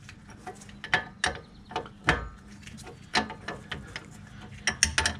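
A ratchet loosening a 19 mm lower ball joint nut on a VW Beetle, with bursts of sharp clicking pawl strokes in irregular rhythm, close and clear, with no speech.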